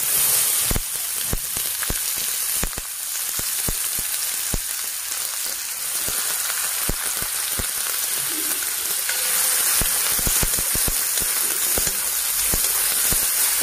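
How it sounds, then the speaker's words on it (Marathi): Finely chopped onion fries in hot oil with a continuous bright sizzle, broken by sharp crackles and pops throughout. It is close and fairly loud, with no talking. "त्यात बारीक चिरलेला कांदा टाकून घेऊ"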